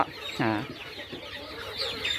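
Black-boned chicken chicks, a batch of twenty, clucking and peeping in a loud burst near the start, followed by softer scattered chirps over a steady background.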